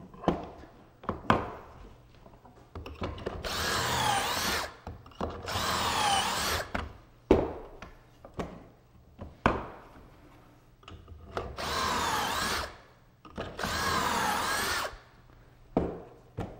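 A power drill drives pocket screws into a wooden trim joint in four long whirring bursts, each winding up and stopping sharply, separated by quieter clicks, taps and handling of the boards.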